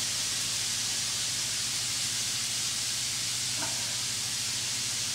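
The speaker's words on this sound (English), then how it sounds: "Saute it all together." Peppers and onions sautéing in a pan give a steady, even hissing sizzle close by, with no talking.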